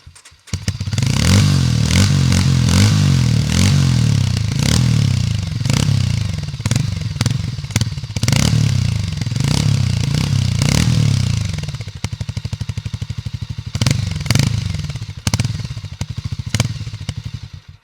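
A Harley-Davidson X440 single-cylinder motorcycle starts and idles with a deep, bassy thump, then revs repeatedly in sharp bursts, loud and close, before settling back toward idle.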